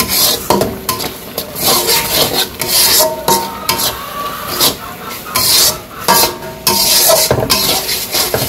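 Spice masala with salt, turmeric, dried chilli and coriander powder being stirred and sautéed in a pan, loud and close, with repeated scraping strokes over a crackling sizzle in an uneven rhythm.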